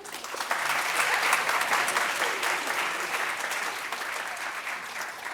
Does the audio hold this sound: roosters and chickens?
no